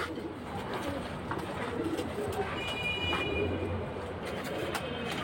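Bezi pigeons at a pigeon sale cooing repeatedly in low throaty calls amid a busy, noisy background with occasional clicks and rustles.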